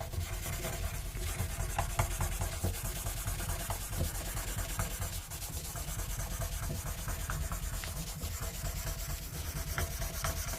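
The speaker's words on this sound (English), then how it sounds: "rub it in a little bit to begin with" Steady close rubbing on the wooden fretboard of a Yamaha Pacifica electric guitar as oil is worked in, a continuous dense scrubbing texture with soft, irregular strokes lasting throughout, no voices.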